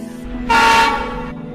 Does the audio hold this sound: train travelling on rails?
yes